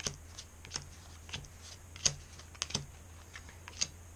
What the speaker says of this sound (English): So now I'm going to deal the cards from left to right.